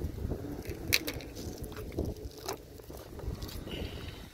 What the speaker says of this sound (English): See, it's very windy today.